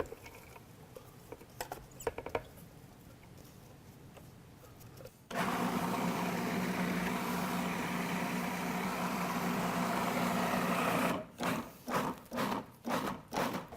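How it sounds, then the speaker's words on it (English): A food processor runs in a loud, steady whir as it chops parsley and other chimichurri herbs, then switches to a series of short, rhythmic pulses near the end, following a quieter stretch of faint handling noise. No one speaks. "let's get these chimichurri ingredients into our food processor."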